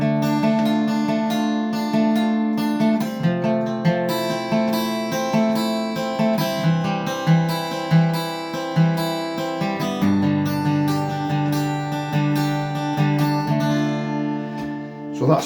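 Acoustic guitar fingerpicking a steady repeating pattern through changing chords, the intro section of a song, close and clear with ringing notes and no voice.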